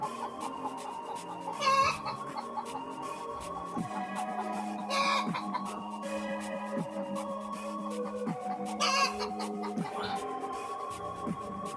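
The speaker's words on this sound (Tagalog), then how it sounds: "Napakaingay mga lods ng manok." Chickens cluck and crow loudly and almost nonstop, with several louder bursts standing out, during an outdoor exploring trip in the Philippines.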